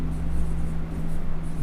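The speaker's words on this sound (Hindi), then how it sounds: "तो मैं यहाँ लिखता हूँ डी ब्रॉगली" Hand writing on a board during a physics lesson on modern physics: a short, continuous scratch over a steady low room hum, with no talking.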